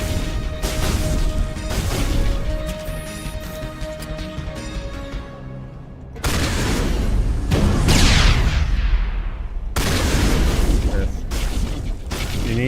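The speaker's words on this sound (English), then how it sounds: "Throw a grenade!" A grenade blast in the Mass Effect video game lands as a heavy, wideband boom partway through, followed by further crashing impacts and combat noise, with game music and voices running underneath.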